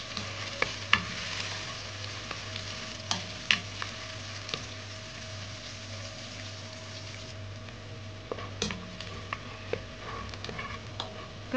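Garlic sautés in butter in a cooking pan for a Filipino creamy soup, giving a quiet, steady sizzle with occasional sharp clicks of stirring, close and faint, with no voices.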